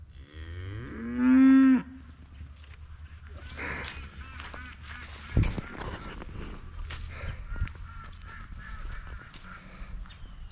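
Cattle on a hillside cabin homestead give one loud, drawn-out moo early on, followed by scattered softer lowing, clatter and movement noises from the herd.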